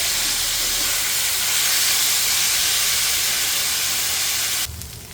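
Milkfish (bangus) hits a hot frying pan and sizzles with a loud, steady, broad hiss that fills the air for several seconds before abruptly dropping off near the end.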